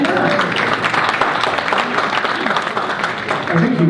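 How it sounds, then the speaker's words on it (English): An audience claps for a contestant at a crossword puzzle tournament finals, a dense, loud, continuous patter of hands filling the room for several seconds, with a few voices beneath. "Yeah, you can clap for her."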